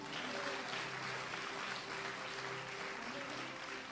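A church congregation at a gospel conference in Abidjan applauds and cheers together in a dense, steady roar of clapping that holds at an even level throughout, with a sharp burst at the very end.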